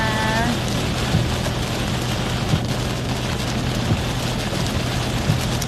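Steady heavy rain pours down in a dense, continuous hiss, with a low hum underneath throughout.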